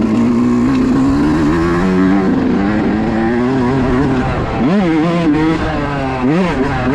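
A Yamaha YZ125 two-stroke race engine revs hard while being ridden, a loud, close, buzzing drone that holds high then dips and climbs sharply in quick repeated throttle swings.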